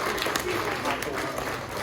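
A crowd applauds after a performer's turn at a show at the Nashville Zoo, a brief, moderately loud spatter of clapping outdoors, faint voices mixed underneath.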